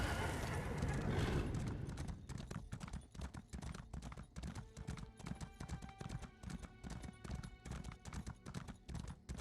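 Horse hooves galloping in the video game Elder Scrolls Online, a loud, steady rapid clip-clop rhythm that runs throughout, preceded by a brief burst of louder noise at the start.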